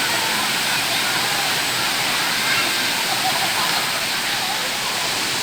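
Huai Mae Khamin waterfall in Kanchanaburi, second tier, pours in a loud, steady broadband roar of rushing water, close and unbroken throughout.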